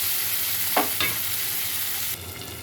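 Dried fish frying in hot oil in a pan, a steady close sizzle broken by two quick scraping strokes of a stirring spoon, with no voices.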